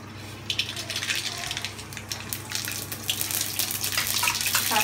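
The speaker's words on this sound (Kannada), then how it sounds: "ಫಸ್ಟು ಸಾಸಿವೆ ಹಾಕೊಳ್ಳೋಣ." Mustard seeds hit about two tablespoons of hot oil in a pan, a continuous crackling sizzle with scattered sharp pops that grows slightly louder, with no talk over it.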